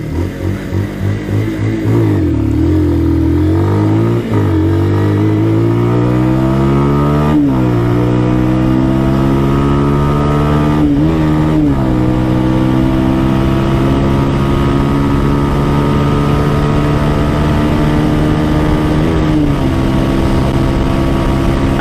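A 2010 Bajaj Pulsar 150 motorcycle accelerates hard during a top speed run, its engine note climbing through several gear changes, loud and close with wind rush throughout.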